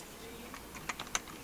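Brief, faint computer keyboard typing, a handful of soft key clicks over quiet background noise.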